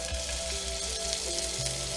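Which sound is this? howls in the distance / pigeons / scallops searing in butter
scallops searing in butter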